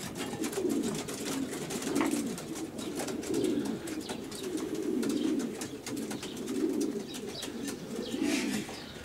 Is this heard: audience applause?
no